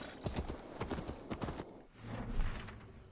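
Horse hooves clip-clop at a steady trot in Assassin's Creed Valhalla, fairly near and moderately loud, with game ambience underneath and no talking.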